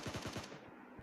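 Rapid automatic gunfire in a battle royale video game, a tight burst of about five loud shots in quick succession followed by a fading tail, with no talking.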